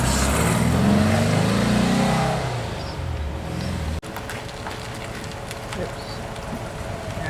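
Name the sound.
Porsche 356 engine running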